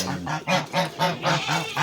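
A goose honks repeatedly in a quick, even rhythm, about six loud nasal calls close by with no talking.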